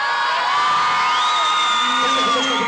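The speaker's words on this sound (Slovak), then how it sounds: "Ja mám taký pocit, že viac kričali ženské" A large live crowd at a radio event, loud and continuous shouting and cheering with high-pitched, mostly female screams rising and falling throughout.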